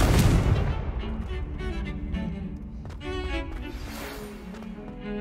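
A Confringo spell explosion in the Hogwarts Legacy video game, a loud booming burst at the start that fades into rumbling debris and softer magical crackles.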